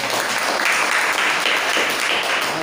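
A church congregation claps together, a dense, even wash of applause that holds steady and fills the whole stretch with no break.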